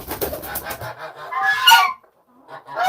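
A goose on a backyard coop honks loudly and repeatedly in agitated bursts, with a rising, strained cry near the end before a short pause.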